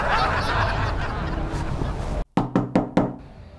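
After a noisy, murmuring stretch cuts off, someone knocks on a door: four quick, close, solid raps in an even rhythm.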